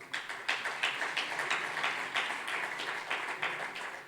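Audience clapping at a gender-equality recognition ceremony, a moderate, fairly quiet patter of many hands with uneven bursts, heard alone without talk.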